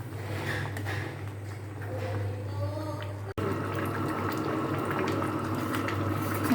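Mung dal cooked with a fish head simmering on the stove, bubbling and burbling steadily at close range under a low constant hum, with a brief cut midway.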